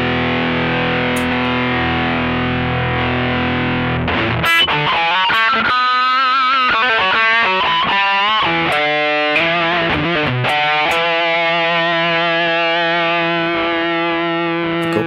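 Electric guitar runs through a distortion effect programmed on a Sigma DSP ADAU1452, starting with a sustained crunchy chord before choppy distorted riffs and single notes, loud and alone without any voice.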